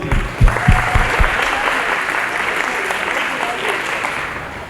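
Audience at a school farewell event applauds the drone team, starting with a few sharp claps and then settling into sustained, dense clapping that gradually eases off, with voices mixed in.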